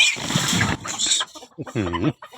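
Startled chickens squawk and cluck in a burst of sharp, agitated calls, fairly close, with a few choppier cries near the end.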